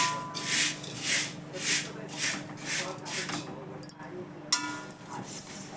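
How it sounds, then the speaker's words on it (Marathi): Flattened rice (poha) is stirred and scraped in a pan over low gas, giving slow rhythmic rasping rubs that swell and fade about once a second, with a faint voice underneath and a clink near the end. "गॅस जरा बारीकच ठेवून भाजते."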